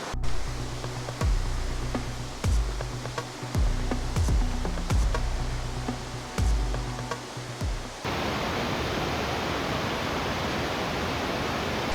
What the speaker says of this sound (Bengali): খণ্ডধর জলপ্রপাত থেকে জলটা ঠিক এইখানে নদী হয়ে বয়ে যাচ্ছে